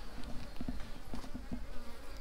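Honeybees flying in and out of a seven-frame hive box entrance, a close buzzing hum with individual bees droning past in brief louder passes over a busy background.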